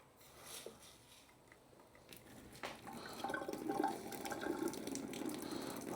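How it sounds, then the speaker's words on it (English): Pasta water poured off into a kitchen sink, starting quiet then building into a steady close rush and splash of water against the metal basin for several seconds, with no talking. "Just gonna chuck this water off."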